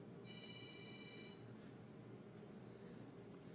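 A telephone gives one short electronic ring, faint and brief, early in a church sermon setting over a steady room murmur, then falls silent.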